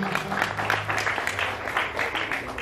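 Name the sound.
applause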